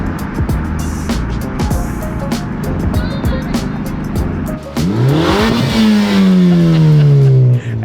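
A Mercedes AMG car revs hard on cold tires, loud engine roar climbing in pitch with tires spinning and squealing, the rising whine building then holding as the car accelerates, with a voice briefly heard over it.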